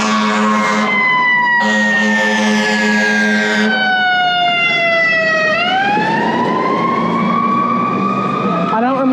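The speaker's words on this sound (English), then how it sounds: "ambulance" Loud ambulance siren passing close in a Nashville street, wailing tones rising and falling, with a pitch drop as it goes by and traffic noise beneath; voices speak nearby.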